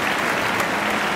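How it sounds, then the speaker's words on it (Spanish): Inserted applause sound effect: a short burst of dense, even crowd clapping, loud and continuous with no gaps and no voices over it. "Insert aplausos, por favor."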